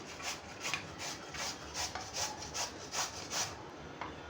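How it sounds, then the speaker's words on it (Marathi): Peeled raw green mangoes rubbed against a hand grater, a steady series of about ten rasping strokes in an even rhythm, close and fairly quiet with no talk. "आता या कैऱ्या आपल्याला किसून घ्यायच्यात"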